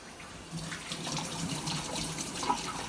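Tap water runs steadily into a sink while hands are washed before cooking Congolese liboke, a soft continuous splashing that grows slightly louder after a moment, with no talking.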